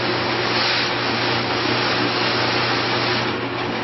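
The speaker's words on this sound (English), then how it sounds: "Where the sanding mop really shines, however, is when you have contours, areas like this that need to be sanded." A sanding mop spinning on a power tool, smoothing the edges of a scroll saw piece: a continuous loud, even whirring hum throughout, close by, with no talking.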